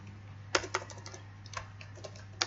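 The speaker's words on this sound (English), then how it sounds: "You type the name of the sales rep here." Computer keyboard keys tapped while entering a sales rep's name into accounting software, heard as a few sharp clicks spread irregularly over a couple of seconds against a steady low electrical hum, with no talking.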